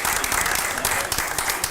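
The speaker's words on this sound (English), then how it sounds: "I think that you have definitely earned a round of applause for that accomplishment." Dense audience applause at a city council meeting in Hammond, Louisiana, a short steady burst of many hands clapping together, fairly loud and continuous.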